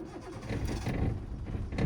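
Car engine starting with the clutch fully pressed, a short cranking churn rising into a rough running rumble, close and moderately loud, with no voices.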